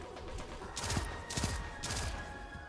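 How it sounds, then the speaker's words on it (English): Gunshots in a first-person shooter game, three separate sharp shots spaced about half a second apart, fairly quiet over a low steady background hum. "Four shots."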